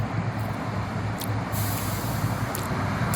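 An Amtrak bus air brake lets out a broad, steady hiss over a low idling engine rumble, with a few brief sharper bursts of air near the end, at a bus stop in Albany, Oregon.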